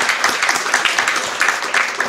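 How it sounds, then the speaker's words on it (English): A brief burst of audience applause at a Rhode Island grant announcement, a dense, close round of clapping from a crowd that holds steady across the short moment. "So, big round of applause."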